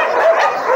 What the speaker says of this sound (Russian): Вот так он лает и привлекает внимание.